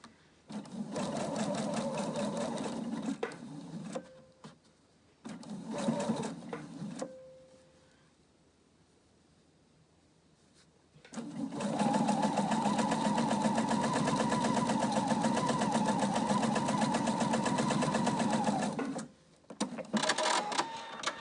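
A sewing machine runs in bursts while tacking the seams of a fabric face covering: several short rapid stitching runs, a quiet pause, then a long steady run and a final short burst, close and mechanical.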